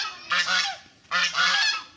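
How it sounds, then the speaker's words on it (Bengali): Geese wandering around a hotel in Digha honk in two loud, close bursts of overlapping calls, each about half a second long, with a short pause between them. "এই কিছু এখানে রাজহাঁস বয়ে ঘুরছে।"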